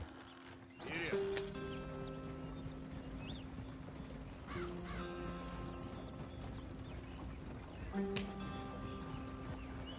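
Horse hooves clip-clopping at a run in Red Dead Redemption 2, steady rhythmic footfalls under game music and ambience, with a rider briefly urging the horse on and a voice speaking.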